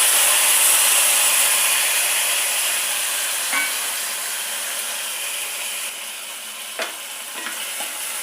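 Fenugreek, cumin, green chillies and tomatoes fry in a pan with a steady bright sizzle that slowly fades, broken by a few faint clicks of a spoon or spatula.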